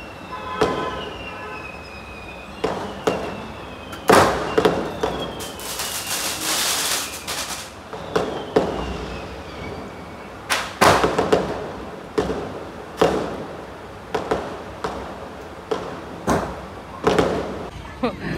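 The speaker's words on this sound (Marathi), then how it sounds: "पाऊस गेल्यानंतर सगळे फटाके वाजवायला उतरले खाली." Firecrackers burst during Diwali celebrations after the rain, sharp bangs and crackling volleys popping at irregular intervals, some near and loud, others farther off, with a long rattling string in the middle.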